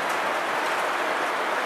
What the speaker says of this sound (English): Hopefully I can be able to hear me over the rain and everything's coming in.